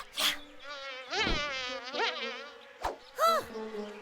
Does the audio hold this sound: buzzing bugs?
yes